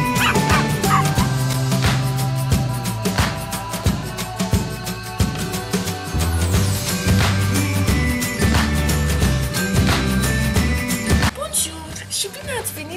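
A man imitates dogs let loose in a park with a loud, busy stream of yips, barks and yelps from his own voice, continuing for over ten seconds in a noisy setting.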